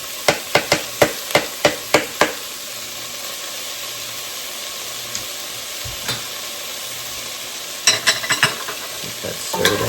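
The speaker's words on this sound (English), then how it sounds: "I'm going to be adding the garlic" Garlic sizzles steadily in a pot for kale soup, with a series of sharp metallic stirring clacks at the start and another cluster of knocks near the end.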